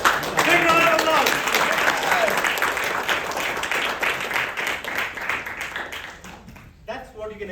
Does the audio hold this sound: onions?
no